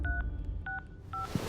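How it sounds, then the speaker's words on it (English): Touch-tone keys beep as a phone number is dialed, three short paired tones spaced evenly apart, clear and close, with a faint rustle after. "Raphael took out his phone. I'm calling the clinic."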